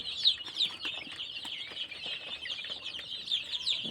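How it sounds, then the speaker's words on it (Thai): Continuous high, thin peeping from many chicks, steady and dense with scattered sharper chirps, fairly quiet and without talk. "ไก่เหลืองขาวชุดนี้ครับ"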